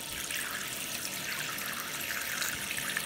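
Water runs steadily from a tap into a sink in a continuous, even hiss, close by and moderately loud with no talking.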